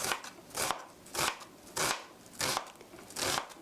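A knife mincing food on a cutting board makes a regular series of about six crisp, rhythmic chopping bursts roughly every half second, close up and alone with no voices.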